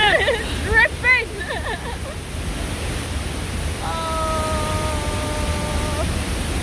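A forest waterfall at Bomana in Cameroon roars as a steady broadband rush close by, with excited voices and a brief whistle-like tone over the constant water noise.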